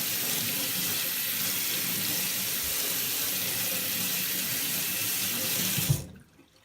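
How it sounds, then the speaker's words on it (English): Tap water runs steadily over lacrosse pocket mesh as it is rinsed, a close, continuous splashing rush that holds level before cutting off abruptly near the end. "Kind of stretching it out, letting the water, everything rinse off."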